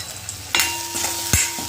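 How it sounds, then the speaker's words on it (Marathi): Roselle flower chutney cooking on low heat in a pan being covered to steam, giving a soft continuous sizzle with two sharp metallic clanks of the pan or lid, near and without talk. "याच्यावर झाकण ठेवून थोडं दोन तीन मिनटं वाफवून घेते ही चटणी"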